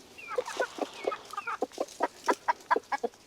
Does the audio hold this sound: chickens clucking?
yes